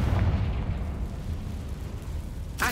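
A Confringo fire spell in Hogwarts Legacy erupts in a booming blast, a thick low roar that rolls on for a couple of seconds before a sharp crackling pop at the end.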